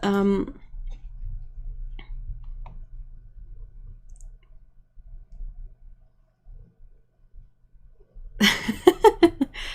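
A computer keyboard's spacebar clicks in a quick run of sharp taps, loud and close, at the end of the stretch, after a long quiet gap with faint low-level noise.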